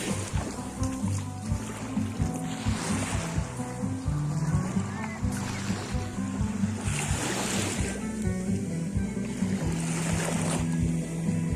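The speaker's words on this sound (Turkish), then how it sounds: "Dalga ayaklarımıza fırıyor." Sea waves wash continuously onto a dark beach at night, a steady loud rushing surf with wind buffeting the microphone and low rumble throughout, no clear talking over it.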